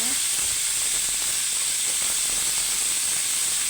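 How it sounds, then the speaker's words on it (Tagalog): Beef marinated in pepper, paprika and salt frying in oil, making a constant loud, bright hiss and sizzle with no pauses and no talk. "Ipiprito muna natin siya."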